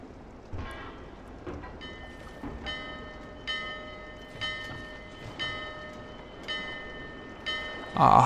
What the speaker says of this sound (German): Was passiert, wenn ich an dieser Glocke ziehe?